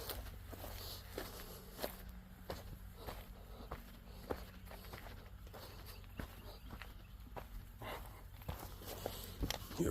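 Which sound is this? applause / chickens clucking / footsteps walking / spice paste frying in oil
footsteps walking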